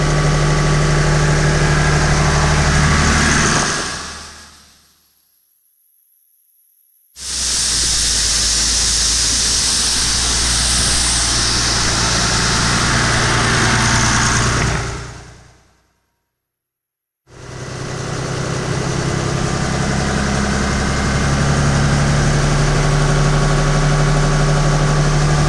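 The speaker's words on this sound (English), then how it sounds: "we've been running this one not full throttle, more like 1500 RPMs on the tractor" A farm tractor runs steadily at about 1500 RPM, driving a 13-inch grain auger during corn harvest in Iowa, giving a loud, constant low drone that cuts out twice for a few seconds and then resumes.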